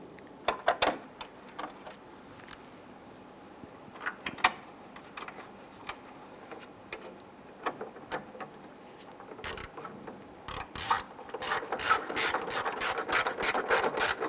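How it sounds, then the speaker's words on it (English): A hand ratchet drives the grille screws on a 1995-2001 Ford Explorer, giving sparse clicks that turn into a quick, loud run of ratcheting near the end, with no voices. "you go ahead and install the 2 screws"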